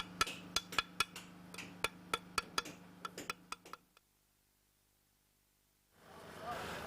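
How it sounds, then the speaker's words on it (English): Small steel trowel working lime mortar into the joints of a stone wall, a run of sharp clinks and taps in quick uneven rhythm, close and fairly loud, stopping into near silence before faint background noise returns. "The joints are neatened with a small trowel. This process is called pointing."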